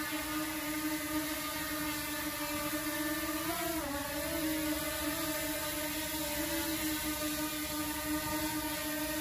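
A DJI Mini 2 drone hovers indoors with its propellers giving a steady, close, high-pitched whirring buzz throughout, wavering briefly in pitch partway through as it moves.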